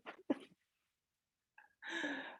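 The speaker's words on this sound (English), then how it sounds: "I have to sneeze." A single person's sneeze indoors in a meditation centre kitchen, preceded by short sharp intakes of breath and ending in a brief loud burst, close and quiet overall.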